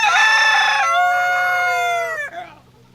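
A rooster crows loudly and close on a farm, one long drawn-out call that rises, holds and trails off, with faint hen clucking beneath and no talking.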